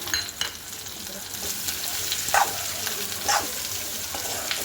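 Onion, garlic and ginger roast in a pan with a continuous close sizzle and occasional louder stirring scrapes, with no voice.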